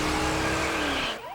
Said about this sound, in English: The officers intentionally spin him out.